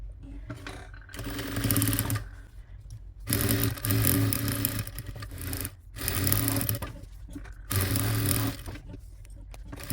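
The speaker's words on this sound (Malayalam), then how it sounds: "നമുക്ക് സ്റ്റിച്ച് ചെയ്തെടുക്കാം." A sewing machine stitches the edges of a fabric pot holder, running in several steady whirring bursts separated by short pauses, close and fairly loud.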